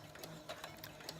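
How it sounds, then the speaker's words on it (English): A home sewing machine stitching fabric for a throw pillow, a quiet steady mechanical whir with faint rhythmic clicks across a short stretch, no voices. "I'm going to just start sewing a little bit."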